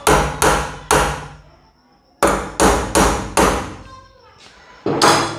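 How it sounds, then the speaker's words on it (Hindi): A hammer strikes a centre punch on a 16-gauge iron pipe in sharp, ringing metallic blows: a quick group of three, a pause, another three, then a final hit, all loud and close. "हम सबसे पहले इसमें अपन सेंटर मारेंगे।"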